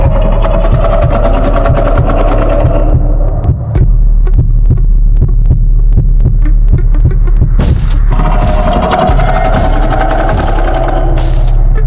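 Loud heartbeat sound effect in the Roblox horror game DOORS: a steady, heavy throbbing pulse over a constant deep hum, with higher swelling tones coming in and out, and no talk.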